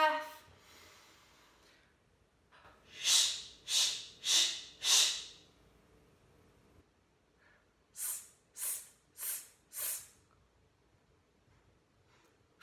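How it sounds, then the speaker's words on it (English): A group of upper-primary schoolchildren takes big breaths together in a classroom lesson, heard as two sets of four loud, evenly spaced breathy bursts separated by a quiet pause, with faint voice at the start. "taking in a really, really nice big breath"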